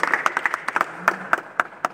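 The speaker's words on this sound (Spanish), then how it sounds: "Un aplauso para ustedes." A small group at a rural gathering of farmers and Indigenous people gives short, uneven applause. Scattered distinct hand claps follow one another over a couple of seconds, close by and moderately loud.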